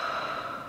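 A person breathes out hard through the mouth to empty the lungs before a nasal inspiratory flow test with a mask, producing a short, steady, airy rush that is close to the microphone and fades slightly toward the end.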